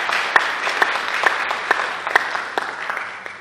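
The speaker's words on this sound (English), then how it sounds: "Let's give our honorees a round of applause." Audience applause for Hall of Fame honorees at a community college ceremony, a steady wash of clapping from a crowd with a few sharper individual claps standing out.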